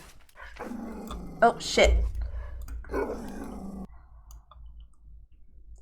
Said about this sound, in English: Now there's an excited dog.